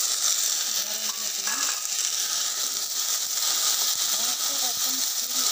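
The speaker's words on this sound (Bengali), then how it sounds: "মরিচ পেঁয়াজগুলো ভাজা হয়ে গেছে, বেশি ভাজার দরকার নেই" Chillies and onions fry in a pan, giving a steady sizzling hiss with occasional stirring scrapes while a person talks over the cooking.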